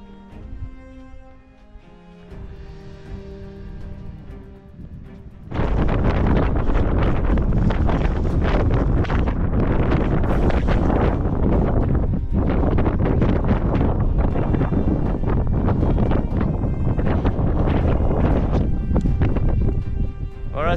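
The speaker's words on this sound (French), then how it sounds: "J'avoue que le vent est super froid." Cold mountain wind on an exposed peak along a Massif Central traverse buffets the microphone with a loud, constant roar. It comes in abruptly after a quieter opening with faint tonal sounds and does not let up.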